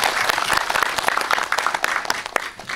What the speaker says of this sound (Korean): 박수 한번 치고 넘어가도록 하겠습니다.